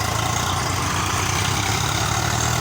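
Two Swaraj tractors run in tandem hauling a trolley loaded with 350 maunds of maize up a slope, giving a loud, steady, close engine drone with no break.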